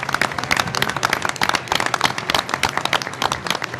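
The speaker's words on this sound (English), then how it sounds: "I'd like to give a big round of applause to the parents that have supported these children throughout the whole entire year." Applause at a school board meeting honoring parents: a dense burst of many hands clapping close by, continuous and lively from start to finish.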